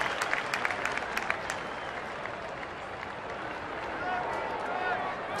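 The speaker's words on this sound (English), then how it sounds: "Clint Hurdle letting him go out and then replacing him so that he can get a round of applause here" A sellout ballpark crowd applauds Andrew McCutchen as he leaves the field, a broad steady wash of clapping and cheering with a commentator talking over it.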